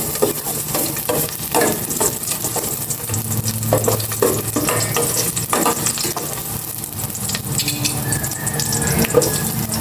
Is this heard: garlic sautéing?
yes